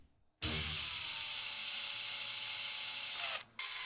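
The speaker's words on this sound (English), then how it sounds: "After drilling 2 holes in the back of the head with corresponding holes in the neck" Power drill boring two holes into the back of a diorama elephant head and its matching neck piece, a steady, loud whirring grind running nearly unbroken for about three seconds before a brief cutoff and restart.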